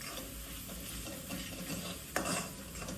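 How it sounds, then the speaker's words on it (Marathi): Malvani masala, red chili powder and salt sauté in oil in a pan. A soft sizzle sits under scraping stirring strokes, with one sharper knock of the spatula partway through, and no voice. "मालवणी मसाला आणि चवीनुसार मीठ हे टाकून चांगलं परतून घ्यायचं आहे"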